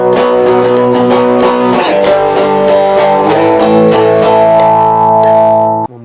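Electric guitar with distortion and reverb being tracked in a studio, played as a sustained, chorded riff with repeated attacks that rings steadily for about six seconds before stopping abruptly.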